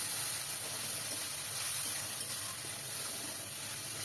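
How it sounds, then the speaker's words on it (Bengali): Water poured onto frying turmeric, cumin, coriander and dried chilli spices in a pan for a Bengali pangas fish recipe, a loud steady hiss of steam and sizzle that holds evenly throughout. "তো মশলাটা যাতে পুড়ে না যায় সেজন্য সামান্য জল দিয়ে দিলাম।"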